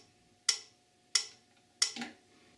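Metronome ticking at 90 beats per minute, three sharp, evenly spaced clicks that ring briefly and decay, heard alone and fairly quiet against a faint steady hum.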